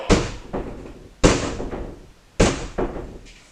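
Someone pounds hard on a door as if trying to break it down: three heavy double thuds spaced about a second apart, each a loud slam followed by a softer second knock, with a fourth blow starting at the very end.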